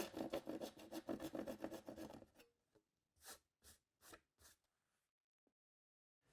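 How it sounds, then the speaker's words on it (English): A tenon saw cuts a notch out of a laminate plank to fit around a 22mm pipe: steady rasping back-and-forth strokes at close range, then a few separate short scrapes with gaps of quiet. "I'm going to take my tenon saw and cut that out"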